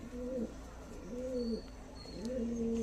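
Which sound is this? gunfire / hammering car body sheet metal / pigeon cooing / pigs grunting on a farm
pigeon cooing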